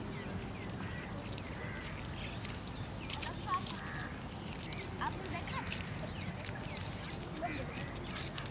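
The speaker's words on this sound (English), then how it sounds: "winter visitor to the Indian plains is the ruddy shell duck, also called the Brahminy duck" Ruddy shelduck (Brahminy duck) wintering on the Indian plains give a few faint honking calls, mixed in with other waterbird calls at a lake, all under continuous narration.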